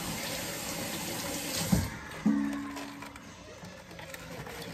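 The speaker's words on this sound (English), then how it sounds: "Wash your hands." A kitchen tap runs steadily while hands are washed at the sink, a loud continuous rush of water that shifts with a couple of brief splashes and clunks.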